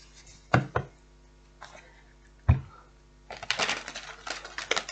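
Tarot cards are shuffled by hand, giving a few sharp taps and slaps followed by a quick rustling riffle of cards at close range, with no talking.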